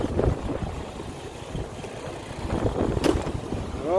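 Wind on a blustery day buffets the microphone outdoors, a continuous rough rumble with gusts rising at the start and end, loud and close with no talk.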